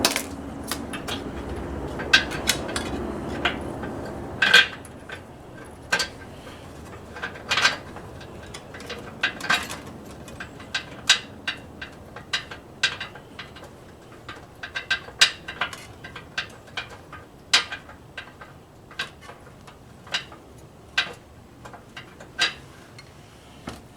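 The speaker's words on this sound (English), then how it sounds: "Now I unscrew the fish wires." Metallic ratcheting clicks and clanks from unscrewing fish wires while fitting a trailer hitch to a Mercedes C250 Sport AMG, sharp irregular ticks and taps, close and isolated, with a denser rattling stretch at the start.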